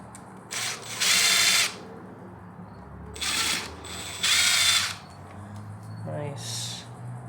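A ratchet clicks in several short bursts while removing the carburetor from a 1997 Suzuki RM250 two-stroke, close and loud, with brief pauses between runs and a low background hum.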